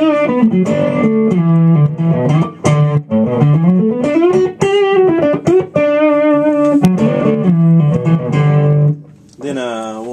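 Electric guitar played through an Amptweaker Tight Drive overdrive pedal with the tight switch off, giving a thick, sustained Les Paul style blues lead with singing bent notes, loud and close, with no talking over the playing.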